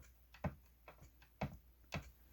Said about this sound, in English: you hear the sound of the veneers touching a carbon fiber rod